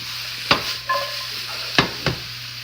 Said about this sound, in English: we're going to let that cook down until au sec, and that basically means that it's almost dry.